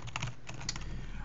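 Fingers tap out a short burst of keystrokes on a computer keyboard at a desk, a few quick clustered clicks heard close and fairly quiet with no talking.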